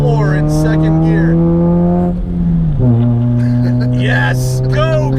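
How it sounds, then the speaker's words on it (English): A modified Chevrolet Cobalt coupe accelerating flat out in second gear, loud droning engine tone climbing steadily, dipping briefly at a shift-like wobble then continuing to rise, with excited voices over it. "This is flat to the floor in second gear."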